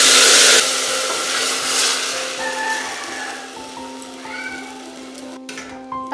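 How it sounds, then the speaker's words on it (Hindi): Horse gram dal is tipped into hot fried garlic for a village-style kulthi dal tempering. A loud burst of sizzling hiss breaks out, then fades to a softer, steady frying crackle over a low hum. "तो अब हम उसमें कुल्थी के दाल को डाल देंगे।"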